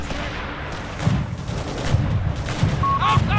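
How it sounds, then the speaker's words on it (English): Artillery fire and gunshots rumble through a Company of Heroes 3 Winter Line battle, with several low booms spaced about a second apart under steady battlefield noise and a few faint higher tones near the end. "Artillery is coming on top of us."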